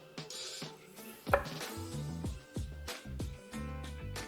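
A knife slices through rested Wagyu steaks with a crispy crust, making a series of close, evenly spaced cuts and taps against the board, with no talking.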